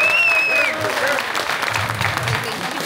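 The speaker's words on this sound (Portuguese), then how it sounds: "um grande salve de palmas para o Só o Puim." A short burst of clapping from a group, fading slightly, with a voice and a brief whistle-like tone mixed in at the start.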